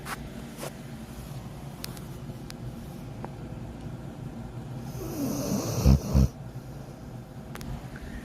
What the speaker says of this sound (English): She's snoring, so if you hear that in the background